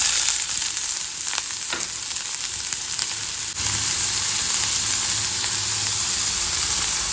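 Onion frying in a pan with mustard seeds, a steady crackling sizzle that runs throughout and grows a bit denser partway through, with a few brief stirring clicks and no talking.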